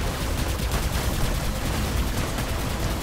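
Dense, continuous gunfire from combat robots in the PC game War Robots, a sustained loud barrage of shots with no pauses throughout.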